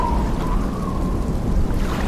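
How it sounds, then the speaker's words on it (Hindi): Rain and rumbling thunder of a sudden storm at sea, a loud, dense, continuous downpour with deep low rumble throughout, no voices. "जब मदीना नजदीक आने को था तब अचानक समुंदर में तूफान आने लगा"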